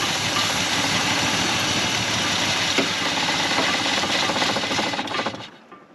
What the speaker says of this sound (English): the engine's rocking back and forth a little because of the RPM dying back and forth